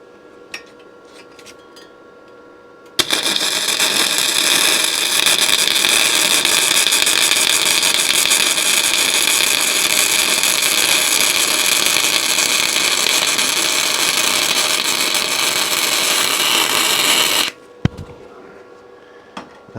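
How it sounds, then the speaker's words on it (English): Gasless flux-core MIG welding on a Fiat/Ford engine mount gives one long, loud, steady crackling buzz of about fourteen seconds, starting and stopping abruptly, with quiet workshop noise before and after. "I'm going to weld it on flux core or gasless MIG as it's sometimes called"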